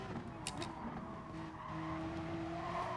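Race car braking hard in Gran Turismo, a Gr. 3 race machine whose engine drones steadily while tires squeal and skid, all heard close and continuous for a few seconds without speech.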